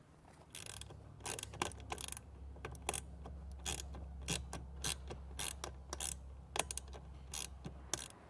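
Screws being snugged down on the mount of a Hayes Energize III+ trailer brake controller in a 2022 Ram, giving a run of quick ratcheting clicks in short bursts over a steady low hum, close and fairly quiet.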